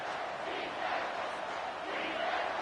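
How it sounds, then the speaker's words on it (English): A football stadium crowd roars on a big third down, with loud, sustained, dense cheering that swells and holds without a break. "Big third down as the crowd gets behind this defense."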